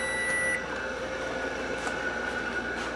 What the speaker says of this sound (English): let me turn that buzzer off so it doesn't sing at us.